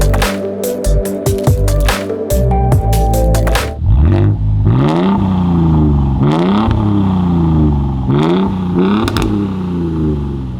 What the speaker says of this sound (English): I want you guys to tell me how this truck sounds. We're gonna bring it down, let you hear it.